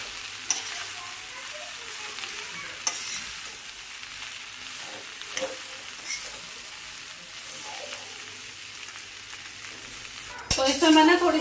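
Stuffing sizzles steadily in a hot pan while being stirred, with occasional scrapes and clicks of the spoon, and a louder clatter right at the end.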